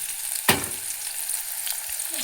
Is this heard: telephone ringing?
no